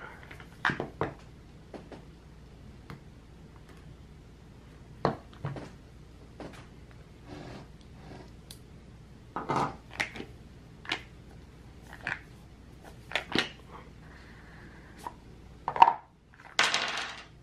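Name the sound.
unboxing Sabacc Disney board game box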